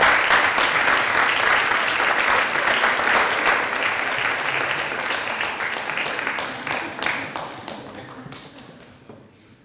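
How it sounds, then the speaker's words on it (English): An audience applauds to welcome artist Pablo Helguera at a lecture, loud, dense clapping close by that gradually thins and fades toward the end, with individual claps standing out as it dies away. "let's applaud and welcome the one and only Pablo Helguera"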